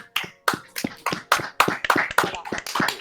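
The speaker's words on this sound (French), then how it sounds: "Allez, on applaudit." Slow, scattered hand claps from one or two people, about a dozen sharp claps spaced evenly, close to the microphone.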